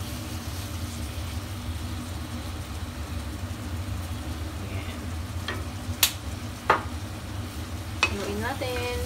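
A spoon stirs Hayashi rice in a pan over steady low sizzling, with a few sharp scrapes and clinks against the pan near the end.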